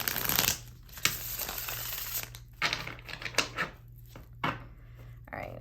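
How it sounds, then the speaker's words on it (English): A deck of tarot cards being shuffled, with repeated riffles and slaps in uneven bursts over a low steady background hum, near and moderately loud. "good shuffle, and we'll go into it"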